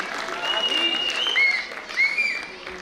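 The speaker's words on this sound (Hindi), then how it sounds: "प्लीज आप तालियां बजाते रहा करिए।" Audience applause at a school annual day: steady, dense clapping from a crowd, with a few faint tonal voices or sounds over it.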